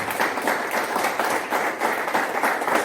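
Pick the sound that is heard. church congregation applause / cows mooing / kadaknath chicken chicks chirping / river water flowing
church congregation applause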